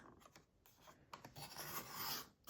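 A paper envelope corner is cut on a WeRMemory Keepers pocket punch board, giving a faint close scraping and rubbing of paper with a small sharp click, quiet and without speech.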